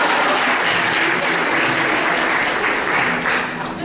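Sustained, broad applause from an audience at an opening session, many people clapping together in a thick, even roar that barely dips until a slight fade at the close.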